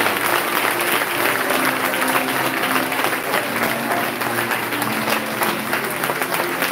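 A congregation at a revival prayer meeting breaks into loud, sustained applause, a dense and steady wash of clapping from many hands that carries unbroken throughout.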